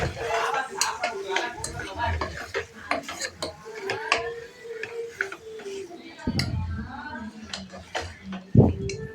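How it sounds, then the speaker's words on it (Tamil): A spoon stirs chicken pieces into masala in a pan, with repeated scraping and clinking against the metal and occasional sizzling, close and moderately loud, while someone talks throughout. "சிக்கன் பீசஸ் போட்டதுக்கப்புறமா அதை நல்லா கலந்து விட்டுக்கோங்க."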